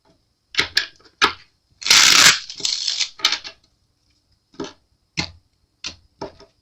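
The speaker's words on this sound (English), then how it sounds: "that was an interesting shuffle there" Tarot cards are shuffled by hand close up in a run of crisp slaps and taps, with one longer riffling burst, then a few sparse card taps spaced apart.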